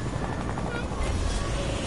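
Helicopter in a multiplayer video game, a steady whirring rotor drone with a low rumbling engine underneath, continuous and fairly loud, with game effects blended in.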